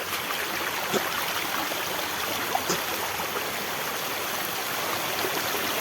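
Water tumbles and flows steadily like a small waterfall in a forest stream, a continuous even rush with faint occasional splashes and no talking.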